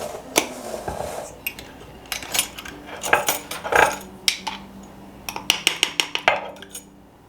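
A spoon taps and clinks against a mixing bowl while a tablespoon of baking powder goes in for sourdough biscuits, a series of sharp close metallic ticks and scrapes coming in scattered bursts, with no voices.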